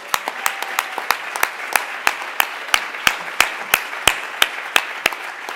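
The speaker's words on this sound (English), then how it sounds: "So, big round of applause for everybody." Applause from attendees at the Hack Manchester 2013 award ceremony: a modest crowd clapping, with distinct, fairly loud individual claps standing out in an irregular patter over a thinner background of hands.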